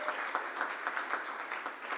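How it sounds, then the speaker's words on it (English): Steady applause from an audience at a Rotary Club of Tulsa meeting, a dense patter of clapping that holds at an even, moderate level for two seconds. "Can I get an applause for that?"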